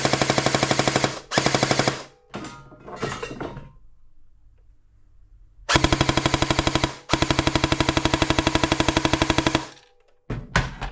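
A homemade airsoft Gatling gun fires rapid rattling bursts, close and loud. A short burst comes first, then mechanical whirring and a pause, then a longer sustained burst of about four seconds.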